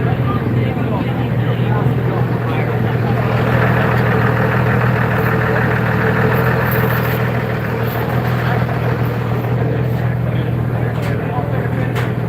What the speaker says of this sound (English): That engine is still running and happy.